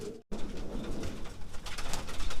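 Soft, low racing pigeon coos repeat close by, with a faint rustling background and no talking.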